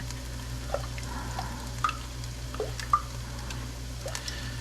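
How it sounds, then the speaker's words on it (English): Scrambled eggs with peppers and onions are stirred in a pan, soft wet squishes and small clicks of the utensil against the pan over a low hum, close and quiet, no voices. "You can't stop stirring."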